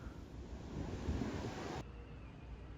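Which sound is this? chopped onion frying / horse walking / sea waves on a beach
sea waves on a beach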